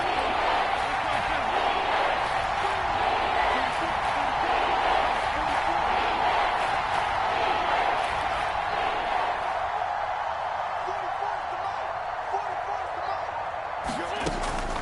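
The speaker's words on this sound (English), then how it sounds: "the crowd getting into it as we come up on a big 3rd down" Stadium crowd noise from a PS4 American football video game swells steadily throughout, a continuous roar of cheering with occasional thuds and slaps mixed in near the front.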